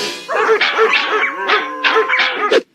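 A dog gives a quick series of high, yelping barks and yips in close succession, loud and near, with no other sound around them.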